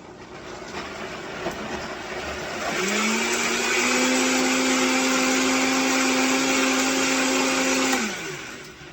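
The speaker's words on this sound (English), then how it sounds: "While I was blending, I realized I forgot my nectarines and my red onion." Blender blending nectarine sauce ingredients in a home kitchen: a rough whir builds, then the motor locks into a steady loud high hum for about five seconds and winds down at the end.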